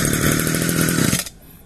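A small Japanese-made pesticide sprayer pump engine, a used domestic import, revs in a loud, buzzy two-stroke rattle for about a second before cutting out abruptly, leaving near silence.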